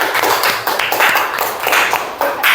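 Audience clapping hands at a gathering, a loud, close, rhythmic patter of many hands striking in short pulsing bursts for a couple of seconds, with no speech over it.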